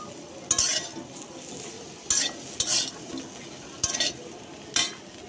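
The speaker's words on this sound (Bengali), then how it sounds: "শুটকিগুলা দিয়ে দেবো শুকনা খোলায়, শুটকিগুলো ভাজবো।" Dried ghonia fish dry-frying in a hot kadai with no oil, giving a steady dry sizzle with five sharp scraping stirs spaced through it, close and fairly loud.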